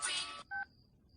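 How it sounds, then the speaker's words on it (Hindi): A telephone sounding for an incoming call in a Hindi comedy film scene: a brief electronic two-tone beep that follows a short burst of noise, then quiet. "इस वक्त किसका फोन आ गया?"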